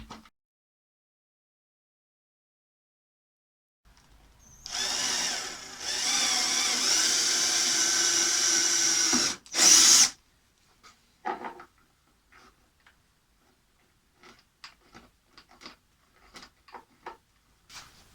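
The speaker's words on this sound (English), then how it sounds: "Now I can mount the handle and get everything straight and level before I drill the second hole." After a quiet stretch, a power drill whirs steadily for several seconds while drilling a hole to mount a work table drawer handle, then stops with a clunk, followed by scattered light taps and handling noises.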